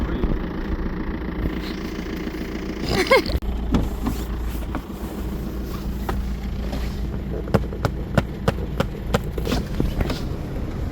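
A car's power window runs with a whining electric motor, followed by a series of sharp clicks and knocks from the vehicle, close by with no talking.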